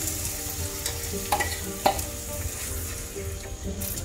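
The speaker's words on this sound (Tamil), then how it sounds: "நல்லா கொஞ்சம் கிளறணும், கிளறி இதை வந்து கெட்டியாகணும்" Varagu millet flour dough stirred in a hot pan for healthy kozhukattai, a continuous soft scraping and faint sizzle with a couple of sharper clicks of the spoon against the pan, close and steady.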